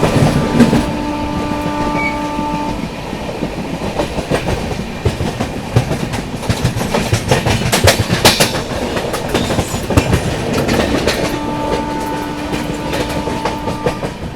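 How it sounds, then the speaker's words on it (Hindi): Howrah Rajdhani Express rolling at high speed, a steady loud roar of wheels with rhythmic clickety-clack over rail joints and a continuous rumble throughout, no voices. "यहाँ पर दोस्तों अपनी हावड़ा राजधानी स्किप कर रही है प्रधान कोटा जंक्शन"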